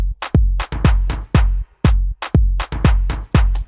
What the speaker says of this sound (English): and some claps